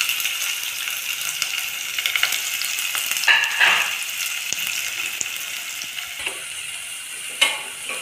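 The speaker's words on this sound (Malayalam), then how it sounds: "ഇപ്പോ ഇതിലേക്ക് ഞാൻ കുറച്ച് സവാള നീളത്തിൽ അരിഞ്ഞത് ആഡ് ചെയ്തു കൊടുക്കുന്നുണ്ട് ട്ടോ" Long-sliced onions fry in hot oil with fennel seeds in a pan, giving a steady close sizzle with a few clinks and stirring scrapes and no talk.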